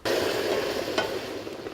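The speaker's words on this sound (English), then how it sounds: "So I have some boiling water here that I'm going to go ahead and add to this." Boiling water pours steadily over dried red chiles in a bowl, a constant rushing splash that holds at an even level throughout, with one small knock partway through.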